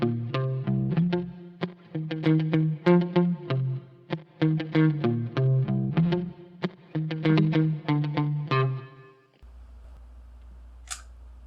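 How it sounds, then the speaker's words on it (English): A mellow, quiet palm-muted electric guitar part runs through effects, a steady pattern of short plucked notes played for about nine seconds before stopping, followed by a low hum and a faint brief sound. "there's a second guitar part that comes in at the second verse"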